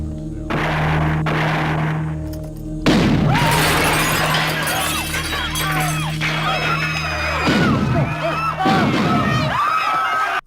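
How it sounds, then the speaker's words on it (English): Gunfire and shattering glass erupt inside a bowling alley in the film Critters, a loud sustained burst of crashing glass and shots running for several seconds over a steady hum, with crowd-like commotion and voices in the mix. "so they shoot up the bowling alley"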